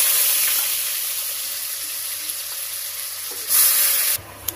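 Ash gourd pieces sizzling in hot oil, a constant hiss that briefly swells near the end before dropping off.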